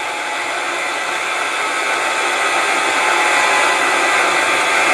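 Milling machine motor on a newly powered-up mill running steadily as it is set to 30 hertz, a loud continuous whir with no speech.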